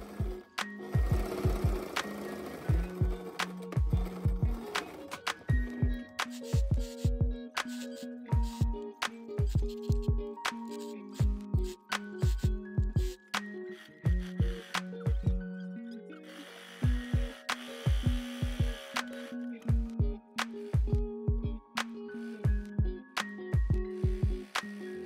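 A sewing machine stitches the side seams of a shirt in repeated bursts of rapid, rhythmic mechanical chatter with short pauses between runs. It sounds close and clear, with no voices.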